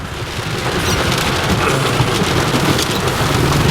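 Heavy rain pours steadily during a thunderstorm in the Małopolska countryside, a dense, close, continuous hiss of drops on surfaces with low rumbling underneath and no voices.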